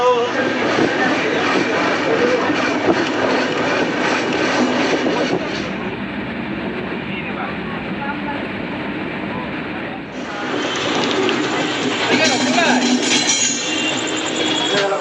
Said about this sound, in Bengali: 13145 কলকাতা রাধিকাপুর এক্সপ্রেস এখন 9:07 এসে উপস্থিত হলো ব্যান্ডেল স্টেশন